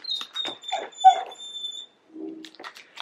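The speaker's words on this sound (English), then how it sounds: "if you guys are hearing wee wee wee wee in the background, please, that's my dog" A dog whimpers and whines in a run of high, thin cries, then a short pause and a lower whine, fairly close and on its own.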